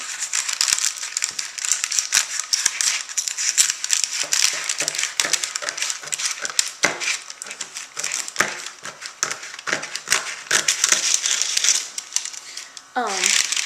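Kitchen shears snip and crackle repeatedly through dried applesauce fruit leather, with dense, uneven crunching cuts and a brief rustle near the end.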